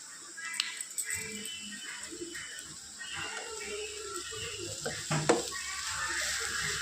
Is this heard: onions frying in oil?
yes